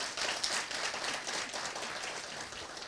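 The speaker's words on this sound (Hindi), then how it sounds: "बहुत ज़ोरदार तालियां बजाई" An audience at a memorial gathering claps in a steady, dense wash of applause that starts loud and slowly tapers over a few seconds, with no voices over it.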